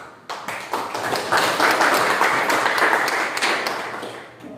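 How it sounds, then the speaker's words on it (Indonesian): Students in a classroom break into loud, close clapping that builds quickly after a few scattered claps, holds steady, then thins out toward the end. "kita berikan ini tepuk tangan kepada"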